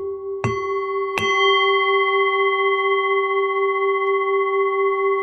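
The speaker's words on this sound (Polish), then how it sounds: "w momencie, w którym zadzwonię w dzwonek uważności" Two strikes of a mindfulness bell, the second about a second after the first, each leaving a clear, sustained ringing tone that lingers and slowly fades in a quiet room.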